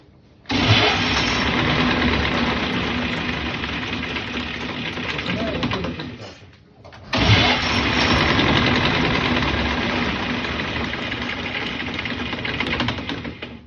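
A motor on a test stand starts up and runs loud and steady, cuts out briefly about six seconds in, then restarts at once and keeps running at full level.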